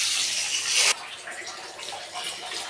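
Tap water gushes loudly over pearl millet grains being washed, a dense close rush for about a second, then quieter splashing and swishing as the grains are rinsed by hand.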